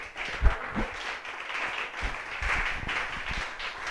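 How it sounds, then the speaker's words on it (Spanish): Church congregation applauds in a short burst, a busy patter of many hands at moderate volume with some crowd noise mixed in. "Dale fuerte el aplauso al Señor"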